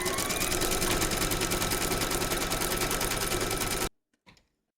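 An embroidery machine stitches round 4 of a hexagon bag in its hoop, a loud, rapid, steady mechanical chatter that stops abruptly, followed by a brief faint clunk.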